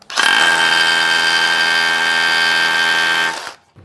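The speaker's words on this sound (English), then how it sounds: "So let's go ahead and drill this in." A power drill with a 1/2 inch SDS bit bores steadily into concrete for about three seconds, a loud, close, sustained whine that starts abruptly and winds down at the end, with no voices.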